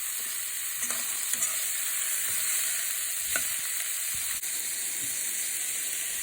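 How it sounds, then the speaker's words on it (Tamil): Beetroot stirred in a hot pan with two dried red chillies, a continuous bright sizzle with occasional scraping clicks of the spoon against the pan, close and steady. "இது கூட பீட்ரூட்டை சேர்த்து நல்லா கிளறி விடணும்."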